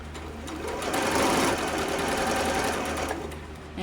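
A sewing machine stitching a sleeve into a garment with stretched elastic, a steady close whirring run of needle strokes lasting several seconds.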